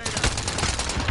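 Dense, continuous video game gunfire, a rapid overlapping barrage of shots that stays loud for the whole short moment.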